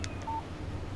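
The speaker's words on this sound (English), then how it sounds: "Text message from Barry." A short electronic alert tone on a phone in the video game Alan Wake, a brief beep over a low background hum, with no voice.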